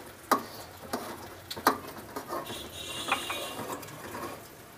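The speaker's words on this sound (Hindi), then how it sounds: "और इसे हिलाएं आहिस्ता आहिस्ता" A spoon stirs milk powder into rusk rice kheer in a pot, making faint, irregular scraping clicks and taps every half second or so against a quiet, hissing background.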